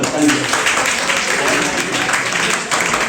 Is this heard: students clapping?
yes